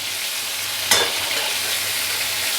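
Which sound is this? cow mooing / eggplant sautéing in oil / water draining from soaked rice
eggplant sautéing in oil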